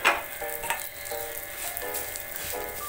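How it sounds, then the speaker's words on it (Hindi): Vermicelli frying in melted ghee gives a soft, continuous sizzle with light crackles and occasional scraping clicks of stirring, fairly quiet and close. "मेरा मेल्ट हो गया है, सेवई को ऐड करना है"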